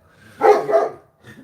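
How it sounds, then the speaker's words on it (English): Dog barking close by, one loud drawn-out bark followed by a shorter, fainter yip. "My dog won't shut up"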